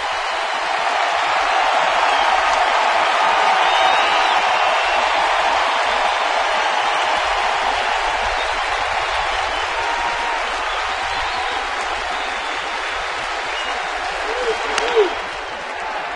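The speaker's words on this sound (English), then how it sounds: "Good crowd into it already." Stadium crowd at a Phillies–Braves baseball game in Atlanta sustains a steady, dense roar of cheering and applause for the full stretch, loud and continuous with a slight swell near the end.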